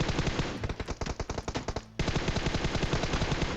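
Assault rifle gunfire in a battle royale video game: rapid, loud automatic bursts of evenly spaced shots, a short pause, then another sustained burst.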